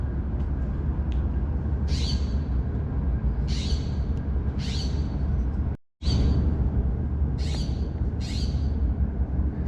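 An owl calls repeatedly outdoors on an art school campus. About seven harsh, screechy calls come at irregular intervals, fairly clear, over steady background noise with a brief dropout midway.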